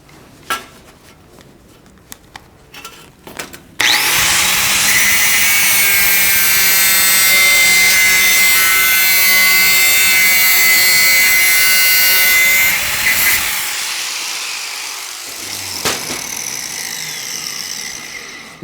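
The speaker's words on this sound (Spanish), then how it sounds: "Debemos pasar nuestro disco tomando este diagonal, estos 45 grados, para poder que el corte quede igual en diagonal." Angle grinder disc cutting diagonally through metal pipe at 45 degrees, a loud sustained high whine with tonal screech after a few handling knocks, then spinning down and falling quiet near the end.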